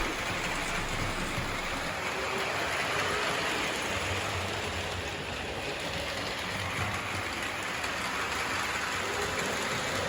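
A Lionel model toy train rumbles continuously along its track, a steady whirring clatter that holds at an even level throughout.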